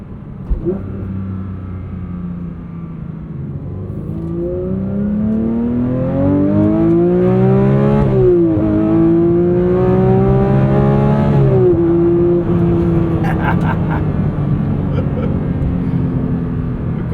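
A 2025 Porsche 911 GT3 Touring with a 9,000 rpm engine is driven hard on an open road. Its loud, close engine note climbs and falls through repeated revs and shifts, holding a sustained high-revving roar.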